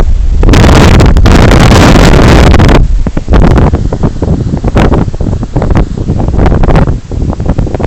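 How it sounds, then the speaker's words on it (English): Strong hurricane wind roars into the microphone in heavy buffeting gusts, loud and continuous, with brief dips between blasts, during Hurricane Irene in New Bedford. "It's real windy out here right now"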